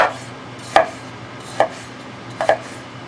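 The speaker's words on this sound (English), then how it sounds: "So let's cut up these pieces." A knife cuts peeled potatoes into pieces on a board, giving four crisp, separate chops spaced about a second apart, close and clear with no talking.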